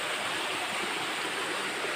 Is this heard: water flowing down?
yes